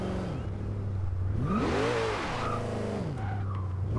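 A 2005 Mercedes-Benz SLR in the Forza Horizon 2 racing game spinning its tires, with the engine note rising and falling in a sweeping arc over a steady drone and a faint squeal.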